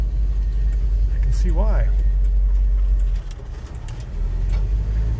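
An old small manual truck cruising in fourth gear, with a loud, steady low engine drone and road rumble throughout. It dips briefly before swelling again, and someone speaks over it.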